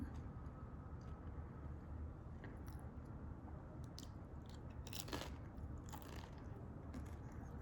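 Nachos topped with cheese, hamburger meat and refried beans are bitten and chewed up close, giving a few soft, crisp crunches over a quiet background.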